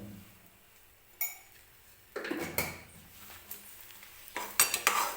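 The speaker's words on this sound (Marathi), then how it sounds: "आणि व्यवस्थित मिक्स करून घेते मी" Sheera being stirred in a pan: soft metal scrapes and clinks of a spoon against the pan come in irregular bursts over a quiet background, louder toward the end.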